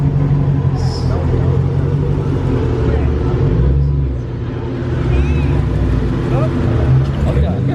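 Deep, loud exhaust rumble from a tuned Dodge Challenger Hellcat pulling hard on a freeway, heard from inside a following car. The drone is continuous and steady, with people talking over it.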